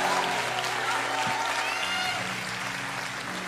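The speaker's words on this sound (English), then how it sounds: "Give him a great big round of applause." Church congregation applauding in a large reverberant room, a steady wash of clapping over a low hum and music, holding constant before easing slightly.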